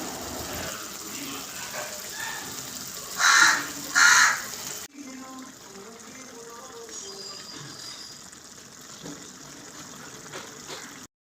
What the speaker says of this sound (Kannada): ಅದು ಕಾಗೆ ಒಂದು ಕೂಗ್ತಾ ಉಂಟು